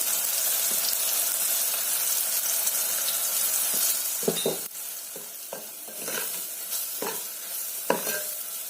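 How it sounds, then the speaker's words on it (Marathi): Ground spices (chilli, goda masala, garam masala, cumin powder, salt) fry in hot oil for methi dal, a loud steady sizzle up close, later joined by several clattering stir strokes with a spoon. "मसाले आपण तेलामध्ये खूप छान फ्राय करून घेतलेले आहेत"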